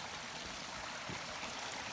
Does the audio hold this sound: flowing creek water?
yes